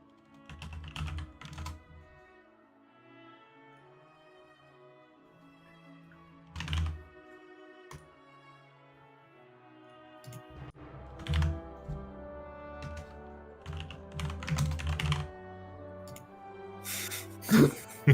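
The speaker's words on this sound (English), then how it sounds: "Typing intensifies." Someone types on a computer keyboard in scattered bursts of clicking keys during a tabletop role-playing session, with pauses between runs and some speech and background music.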